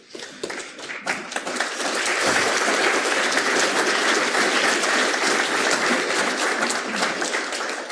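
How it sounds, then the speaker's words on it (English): Audience applause at a hardware security conference talk, starting with scattered claps and swelling into steady, dense clapping that holds for several seconds before easing slightly. "Don't take up my time clapping."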